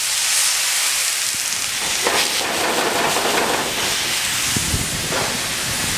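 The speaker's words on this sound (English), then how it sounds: "as this pan heats up, I'm going to first hit it with the orange juice" Orange juice hitting a hot pan, a loud, close, continuous hissing sizzle that holds steady throughout, with a few faint clicks and no talking.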